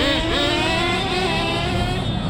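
An HPI RS4 nitro RC car screams loudly across a parking lot, its high-pitched two-stroke whine climbing steadily and holding a dense buzzing tone with slight pitch shifts.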